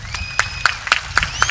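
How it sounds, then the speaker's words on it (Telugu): Short burst of audience clapping at a religious talk, a dense crowd wash with a few distinct louder claps, over a low hum and a faint tone. "క్లాప్స్."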